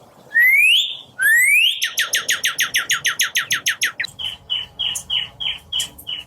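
A person whistles an imitation of a cardinal's song: two rising slurred notes, then a fast string of about a dozen sharp repeated chirps, then slower, lower repeated whistles, close and loud with no talking.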